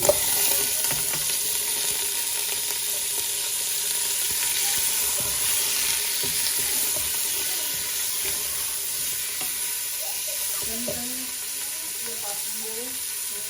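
Steady sizzling and hissing of chicken frying with garlic and ginger in a hot pan, with occasional stirring scrapes and faint bubbling, continuous and close.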